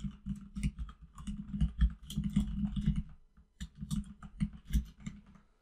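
Rapid clattering keystrokes on a computer keyboard while entering an objective title in Azure DevOps, close and steady with a brief pause near the middle, no talking.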